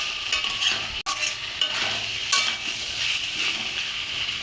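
Stirring small morola fish in a pan, a steady close scrape and shuffle of utensil against metal with faint sizzling and a few light clinks, continuous throughout.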